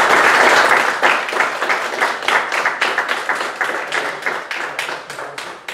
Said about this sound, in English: Audience, please give them a big round of applause.